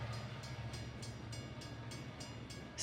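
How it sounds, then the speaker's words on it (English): A train rolls past at a steady pace, its wheels clicking in a regular rhythm over a low rumble, fairly faint and distant with no voices. "The sound of a train is the sound of home."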